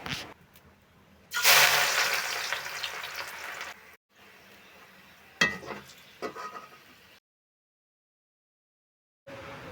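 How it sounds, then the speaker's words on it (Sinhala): Oil heating in a pan for biryani cooked over a firewood hearth, frying until golden brown: close bursts of crackling sizzle, loudest at first, then shorter spits separated by quiet gaps. "මම දැන් තෙල් එකක් තියලා ඒකට තෙල් ටික දාලා හොඳට රන්වන් පාට වෙනකන් බැද ගන්නවා."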